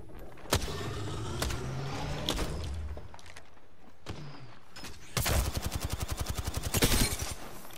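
Gunfire in Apex Legends: a few sharp single shots early, then a dense rapid burst of automatic fire near the end, loud and close, with brief quieter gaps between.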